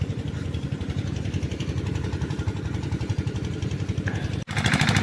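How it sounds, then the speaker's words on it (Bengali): Steady pulsing engine of a water pump machine irrigating a village field, a continuous close mechanical chug with no talk. "এটা হলো জল দেওয়া মেশিন"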